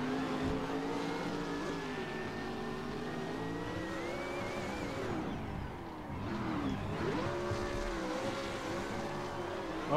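Race car engine held at full throttle in the Assetto Corsa driving game on the Biķernieki track, a loud continuous high-revving drone with shifting pitch, a brief dip midway before climbing again, with a second engine blending in.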